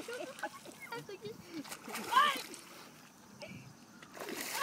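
A tambaqui fish splashes and thrashes at the water's surface while being reeled in on a fishing line, with scattered irregular splashes heard under people talking nearby.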